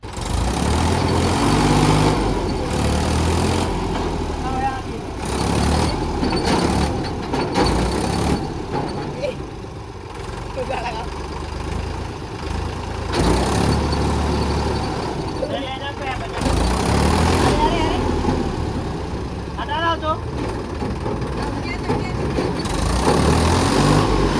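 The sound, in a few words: Mahindra 265 tractor engine pulling an Eicher truck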